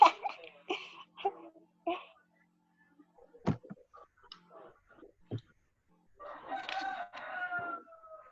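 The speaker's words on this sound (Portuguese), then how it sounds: "É um galo cantando." A rooster crows in a long, fairly close call near the end, after scattered soft clucks and clicking sounds broken by quiet pauses.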